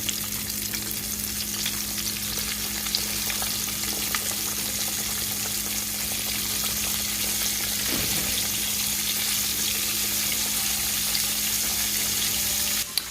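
Steady, loud sizzling of tilapia frying in hot oil in a pot, continuous throughout with faint stirring and bubbling.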